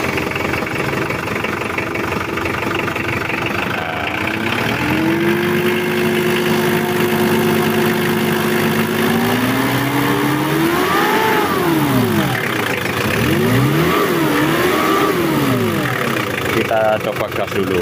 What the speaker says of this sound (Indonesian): Kita coba untuk suara mesinnya.